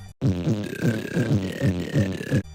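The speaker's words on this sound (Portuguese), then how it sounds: "existia um botão específico para o jogador peidar e arrotar" Cartoonish burping voiced by the player character of an early crime video game with a dedicated burp button, a drawn-out belch with a rhythmic grunting pulse that lasts about two seconds, loud and close.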